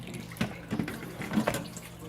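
Water lightly sprayed down a baby bathtub, a soft hiss from a nearby faucet or sprayer with splashing bursts, steady and close under faint voice sounds.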